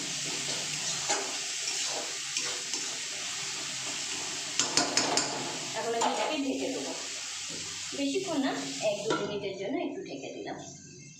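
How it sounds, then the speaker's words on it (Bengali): Spice masala sizzles in a cooking pan after a little water is added for a chicken curry, a steady hiss with scraping and stirring, while a person talks over it. "মশলাটায় অল্প একটু জল দেবো যাতে পুড়ে না যায় অল্প খুব সামান্য একটু জল দিলাম"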